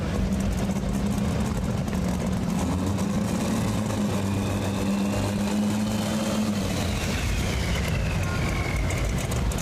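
Falls Gold pulling tractor roaring steadily through a run at a tractor pull at the Holmes County Fair in Millersburg, Ohio, a continuous loud engine drone with shifting pitch, crowd and track noise around it.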